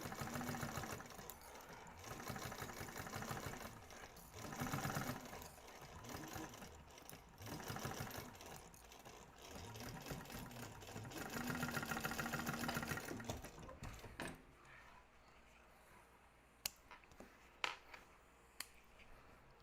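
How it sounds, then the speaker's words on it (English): A sewing machine stitches a crossbody bag in steady, close-up whirring runs that pause and resume, then stops, leaving a few faint clicks and handling sounds. "now we're going to sew that up"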